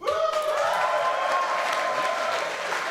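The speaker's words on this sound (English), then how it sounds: "Give him a big applause" A crowd applauds to welcome Boyan Slat at The Ocean Cleanup's prototype unveiling, a loud, continuous clapping with faint cheers and a tonal ring underneath.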